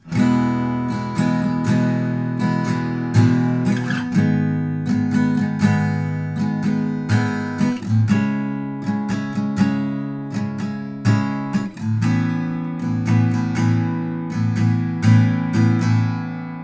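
An acoustic guitar strums a steady rhythmic pattern through a chord progression, chords changing every few seconds, played close and clear with no voice.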